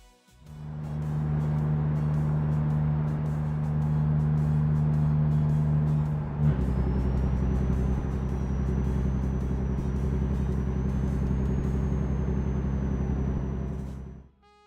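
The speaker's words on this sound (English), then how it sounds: "Truck engine volume." Loud, steady droning truck engine hum in American Truck Simulator that shifts to a deeper rumble partway through, with a faint high whine, running continuously.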